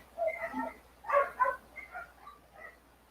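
Dogs at a house bark in a run of sharp, moderately distant yaps and woofs, irregular bursts without talk.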